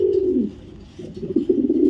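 Racing pigeons, a red checker and a saddle, coo in a loft in a few close, throaty phrases with a short pause between them.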